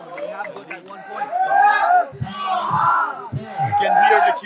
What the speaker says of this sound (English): You can hear the Kilimeru crowd being behind his team.